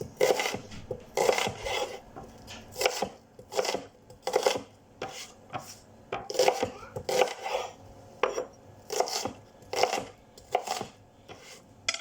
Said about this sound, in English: So once your onions are cut